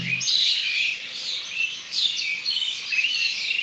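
Dense, continuous chorus of small birds chirping and twittering among green trees and plants, high-pitched calls overlapping steadily and fairly close, with no voices.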